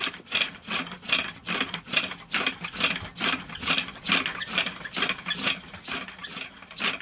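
Rhythmic back-and-forth wooden rubbing and grinding as a wooden spindle drills into a fireboard for friction fire, a steady rasping churn repeating about twice a second, close and fairly loud.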